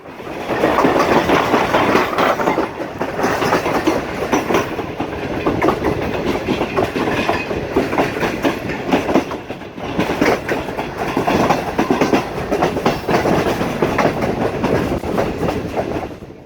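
A Pakistan Railways Green Line Express passenger train passes Sahiwal station without stopping under speed restrictions, wheels clattering rhythmically over the rails with a continuous rumbling roar, close and loud throughout.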